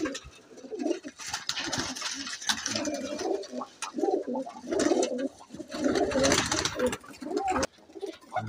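Pigeons, including a black-feathered bird, coo repeatedly at close range in a loft setup in Lahore, the low throaty calls rising and falling in overlapping bursts alongside rustling and wing movement.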